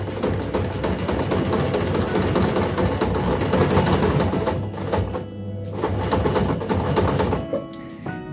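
A sewing machine runs in a steady, rapid mechanical whir, pausing briefly and starting again, close and fairly loud.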